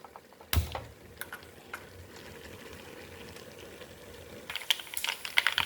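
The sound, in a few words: mustard seeds popping in hot oil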